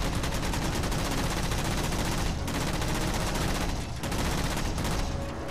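Rapid gunfire with rocket blasts in the Halo 4 campaign, dense continuous bursts of shots broken by a couple of brief pauses, loud and close.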